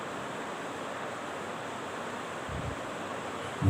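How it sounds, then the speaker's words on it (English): A turbulent river current and nearby waterfall make a steady broadband rush of flowing water, constant and unbroken, with a brief low thump at the very end. "Watch the turbulent flow of water current in this river."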